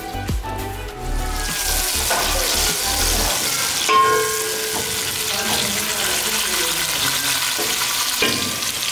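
Onions frying in oil in a pot for chicken biryani, a steady broadband sizzle throughout with occasional stirring clinks and a brief low rumble near the start, close and moderately loud.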